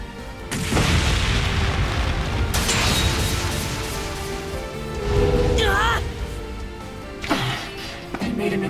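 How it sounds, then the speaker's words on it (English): A makeshift flashbang goes off in the video game Trails Beyond the Horizon, a loud booming blast with a crashing tail that stays heavy for several seconds, mixed with music and character voices. "They made an impromptu flashbang."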